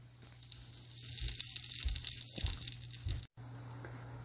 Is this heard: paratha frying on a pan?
yes